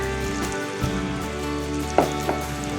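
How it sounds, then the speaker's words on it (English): Steady, crackling sizzle of salmon frying in a hot pan, close and continuous, with a couple of small clinks and pops. "you hear that little sizzle"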